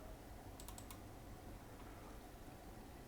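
A quick burst of several light keystrokes on a laptop keyboard, faint and close, then quiet room hiss.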